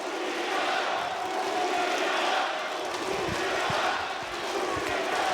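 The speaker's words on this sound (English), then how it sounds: "I'm kind of blown away that we've come all this way and we're hearing Astralis chants, we're hearing FURIA chants." A packed esports arena crowd at a Counter-Strike match between Aurora and FURIA at PGL Astana 2025 roars and chants continuously, a dense wall of voices with rhythmic chant beats.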